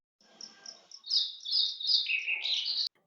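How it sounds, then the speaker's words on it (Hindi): Birds chirp and tweet outside in the dark before dawn, around four in the morning. The bright, high calls come in quick overlapping bursts, fairly close and clear, with no talking. "चिड़ियाँ तो वैसे चीं चूँ कर रही थी"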